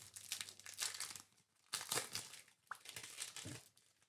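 Foil wrapper of a Topps basketball trading card pack crinkles and tears in three close bursts separated by brief pauses, with no talk.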